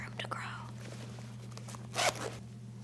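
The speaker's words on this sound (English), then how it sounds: "That's a big zipper." Zipper on stretchy zip-up leggings, a big zip run in a short burst near the end over a steady low hum, with faint rustling and a voice whispering earlier.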